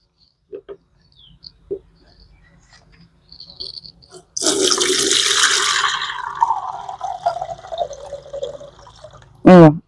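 Liquid garden fertilizer poured into a bucket, a steady splashing pour lasting several seconds after a few faint knocks, with a brief voice at the end.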